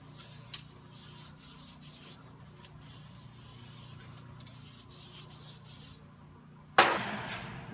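A rag rubs and wipes around the axle area of a Ford F250/F350 Super Duty 4x4 during a ball joint replacement, in repeated soft scrubbing strokes. A brief spray-like hiss comes at the end.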